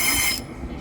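A ScotRail class 320 electric unit at Pollokshields East station gives a close, loud rumble of wheels and motors, with a bright high hiss that cuts off abruptly partway through.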